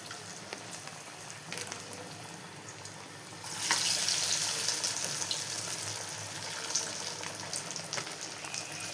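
Masala vada batter drops into hot oil and fries with a steady, bubbling sizzle that swells louder partway through and keeps crackling close up.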